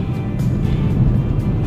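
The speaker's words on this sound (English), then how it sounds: "And the car is being thrown around like a leaf in the wind." Gale-force winds buffet a car on a flooded rural road, a steady loud roar of wind and cabin rumble with gusty surges pressing against the body, no voices.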